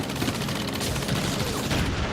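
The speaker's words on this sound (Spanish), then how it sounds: "las fuerzas especiales emitían el sonido de disparos a través de altavoces" Dense, continuous gunfire blasts from loudspeakers during a wartime deception, a loud rattling barrage of rapid overlapping shots with no pauses.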